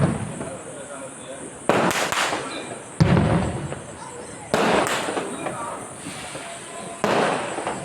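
Firecrackers burst in a residential neighbourhood at night, about five loud, close bangs spaced a second or so apart, each ringing out over a steady wash of distant crackling and faint voices.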